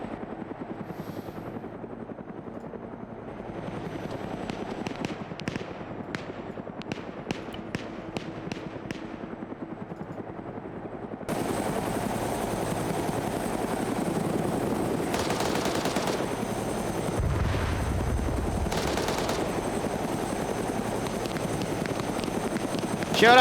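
A video game battle with a helicopter's steady rotor drone throughout, a rapid train of machine-gun shots early on, and later heavier bursts and booms of a firefight, loud and close and continuing without pause.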